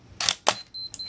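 A Minolta X-700 35mm film SLR fires its shutter in two sharp mechanical clicks close up, followed by a faint whirring tick, in a quiet room with no voices.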